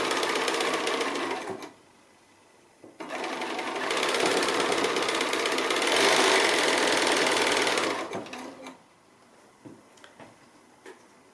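Sewing machine chain piecing quilt pieces, running in two long bursts with a short pause between, steady close whirring stitching that stops near the end, followed by faint handling clicks.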